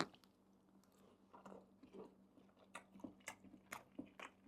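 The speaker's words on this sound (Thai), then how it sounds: "ชิมลูกชิ้นก่อน" Meatballs being bitten and chewed close to the mic, a run of soft wet bites and crunchy chews in an uneven rhythm, quiet and with no talking.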